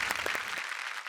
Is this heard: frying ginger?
no